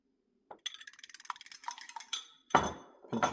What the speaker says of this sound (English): Now we're just going to start by whisking those eggs